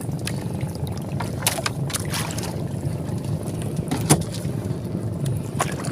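A fishing boat's engine runs at sea with a steady, close, low rumble that holds even throughout, broken by a few light clanks and knocks of gear on board.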